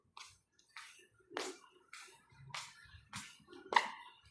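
Water from a refill tap at a church courtyard, heard as a series of soft, irregular splashing bursts at moderate distance, fairly quiet, with no talking.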